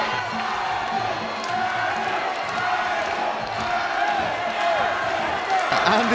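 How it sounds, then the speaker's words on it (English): Crowd at a Muay Thai fight in the UK Muaythai World Series tournament, a sustained roar of cheering and shouting that swells toward the end, with commentators talking over it. "you can hear the crowd going off"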